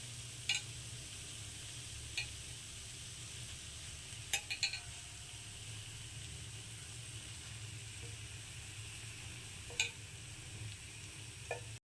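Eggs fry on a hot tawa for anda tawa fry, giving a steady, soft sizzle with a few faint metallic clinks of a utensil scattered through it.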